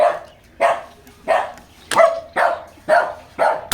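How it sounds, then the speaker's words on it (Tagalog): Several dogs barking repeatedly outdoors, seven loud, evenly spaced barks in quick succession, close to the listener and with no talking. "Pasensya na po kayo sa mga aso mga beng-beng, napakaingay nila."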